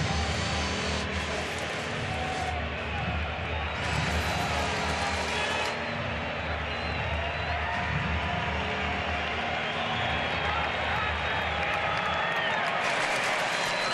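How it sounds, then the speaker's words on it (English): A ballpark crowd at a Braves–Phillies baseball game roars and claps to urge on pitcher Wheeler, a dense, sustained wash of cheering with bursts of applause swelling in and out. "Crowd trying to urge Wheeler on."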